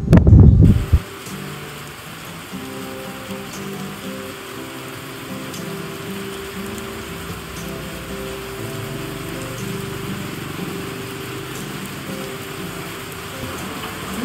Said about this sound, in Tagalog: Ang ganda pa naman ng kwentuhan natin, nabutan tayo ng ulan.